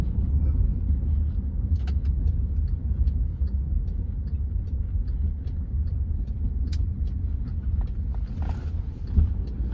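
A car interior carries a steady, continuous low engine and road rumble for the whole stretch as it drives along. No distinct gear changes stand out, and a few faint clicks sit on top.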